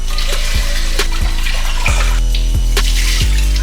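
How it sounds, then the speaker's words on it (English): Starchy water poured off washed rice in a kitchen, a close, loud steady stream of running water with a few splashy pulses as the pot tilts. "that starch that you see in the water that I'm draining off"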